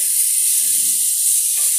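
Ridge gourd (turai) roasting in a pan gives a steady, soft sizzle and hiss with faint crackles, running continuously and alone at close range.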